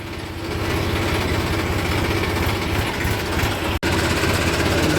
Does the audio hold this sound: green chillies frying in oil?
no